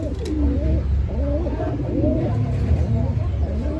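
Breeder pigeons in a loft give repeated low, rolling coos close by, several birds overlapping under a steady background hum.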